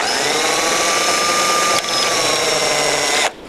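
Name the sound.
drilling pilot hole with small drill bit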